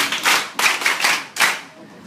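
A group of students in a school claps in three short, uneven bursts, close by and fairly loud. Each burst dies away quickly before the next begins.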